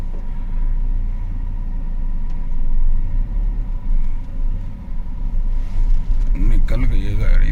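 A car squeezes past along a narrow lane partly blocked by a parked motorbike, its low engine rumble loud and close throughout while people talk over it.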